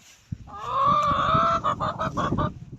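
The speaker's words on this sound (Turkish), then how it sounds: "Bu tavuk ne diyor sence?" A bird honks and clucks in a short, nasal run of calls, fairly close, ending in a few choppy bursts.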